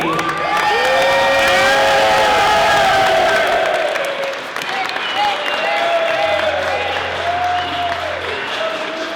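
A wedding reception crowd applauds and cheers, a loud, continuous wash of clapping with whoops and shouted voices riding over it, easing slightly midway before carrying on.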